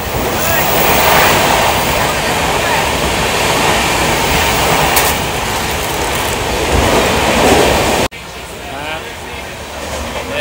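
Loud, steady rumble of a train rolling along the tracks, then an abrupt drop to a quieter, muffled hum near the end.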